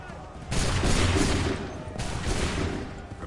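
Two loud musket volleys in Assassin's Creed 3, each a ragged burst of many muskets firing together followed by a rumbling tail, spaced about one and a half seconds apart.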